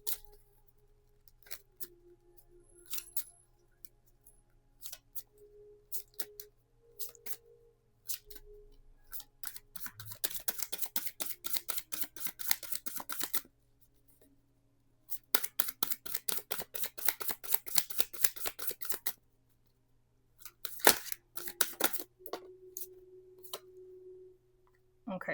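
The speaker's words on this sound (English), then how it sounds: "Let me pull a wisdom card." A wisdom card pulled from a card deck, heard as a run of crisp, papery shuffling and flicking, rapid bursts of close card-handling clicks with short pauses between them, and no voices.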